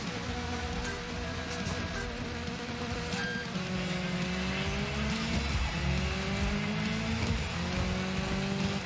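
A Ford Fiesta RS Mark II races in the Dirt 5 rally video game, its engine droning and rising through the gears with steady revving pitch sweeps and loose surface noise, continuous and fairly loud.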